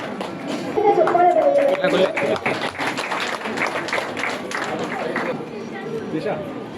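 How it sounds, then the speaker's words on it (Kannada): Audience clapping and cheering at a Tulu cultural heritage celebration, a dense wash of applause with crowd chatter running under it throughout. "ಚಪ್ಪಾಳೆ"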